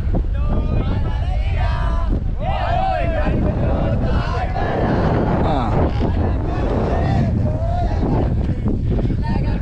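Strong wind on the hilltop at Ramakkalmedu roars and buffets the microphone continuously, loud and close, with voices talking through the gusts.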